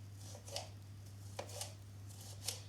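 A knife cuts around the core of a bell pepper in a few quiet, crisp slicing strokes spaced about a second apart, heard over a low steady hum.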